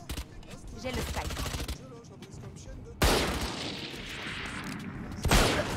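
Gunfire in the video game Valorant cracks out in loud bursts, with a rapid stream early on and sharp single shots later, while a player talks over it.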